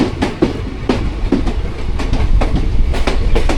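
The Mangaluru-Surat Express runs along the Konkan Railway in monsoon rain, its loud, close wheels rumbling with a regular clickety-clack rhythm over the rail joints the whole way through.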